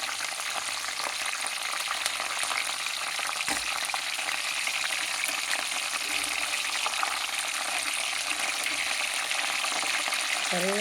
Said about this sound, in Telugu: ఇప్పుడు కరివేపాకు కూడా వేస్తున్నానండి.